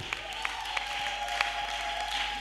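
A church congregation applauds during a sermon, with faint, scattered claps over a low steady hum, brief and distant-sounding.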